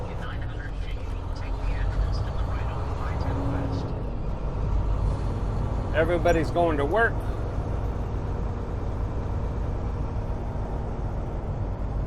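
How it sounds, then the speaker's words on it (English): Steady traffic rumble at a busy intersection, with trucks and cars passing continuously and a brief horn-like tonal blast midway; someone talks over the noise throughout. "You got people running, you got trucks coming, cars buzzing all around."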